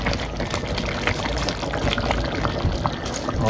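Water is added to a pot of goto, Filipino rice porridge, with a continuous close splashing, pouring rush over bubbling liquid that lasts the whole time.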